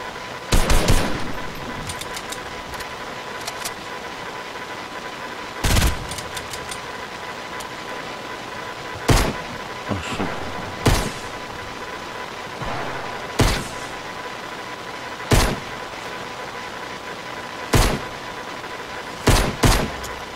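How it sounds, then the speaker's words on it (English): Gunfire in a video game shooter fought with SMGs and pistols: isolated loud shots or very short bursts spaced several seconds apart over a steady low hum and background drone. "there's somebody shooting at me"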